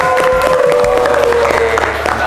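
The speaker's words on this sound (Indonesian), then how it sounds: "tepuk tangan dong buat TV dan kelompoknya" Classroom applause for a student group during a teaching session, brief scattered clapping mixed with voices and room noise, fairly loud and close.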